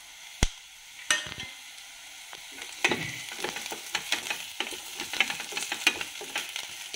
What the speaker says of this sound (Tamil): பூண்டு போட்டுக்கலாம். அது 1 நிமிஷம் நல்லா வதங்கட்டும்.